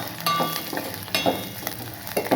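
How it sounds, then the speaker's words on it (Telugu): Spices, green chillies, dried red chillies, curry leaves and lentils sputter and sizzle in hot oil for a pulihora tempering, a fairly quiet frying hiss broken by sharp pops and utensil clinks. "పులిహార పోపు బాగా వేగుతుందండి"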